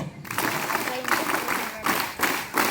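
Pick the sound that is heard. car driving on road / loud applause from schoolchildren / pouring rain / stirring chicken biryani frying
loud applause from schoolchildren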